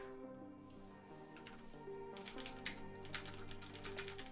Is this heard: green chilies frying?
no